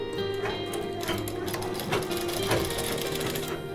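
A sewing machine stitches a pillow cover made from scrap cloth, running steadily and loudly with a continuous rapid mechanical whir throughout, no pauses.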